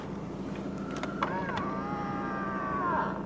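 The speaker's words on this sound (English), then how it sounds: "So to do that, the left and right, you press down at the same time and out it goes." Electric folding door mirrors on a Volvo V40 1.6 D2 SE motor out together, a steady, fairly quiet whine lasting about two seconds over faint cabin background.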